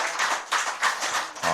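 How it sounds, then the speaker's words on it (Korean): A church congregation claps during a Sunday worship service, a dense burst of hand claps from many people lasting a moment, moderately loud and close. "박수."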